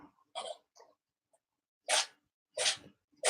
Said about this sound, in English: Was that your cat sneezing again?